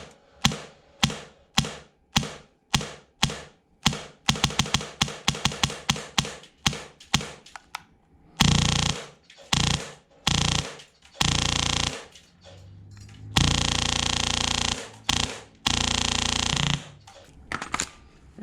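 An airsoft gun fitted with an Acetech Bifrost tracer unit fires repeated close shots, first sharp single pops in quick succession, then longer bursts of full-auto rattle, with no talking.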